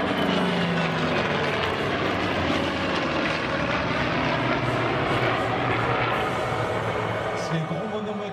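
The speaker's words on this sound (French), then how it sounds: "Les Sky Raider, ces avions à hélice," A Skyraider single-engine propeller aircraft drones steadily overhead, a continuous loud engine hum with faint speech-like sounds mixed underneath.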